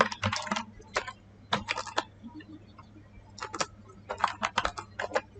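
Someone types HTML code on a computer keyboard in quick clustered bursts of crisp key clicks separated by short pauses, close up with a faint background hum.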